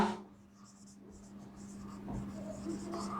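Pen or pencil writing on paper during a Hindi-language grammar lesson, a soft continuous scratching with faint strokes under a steady low hum, no voice.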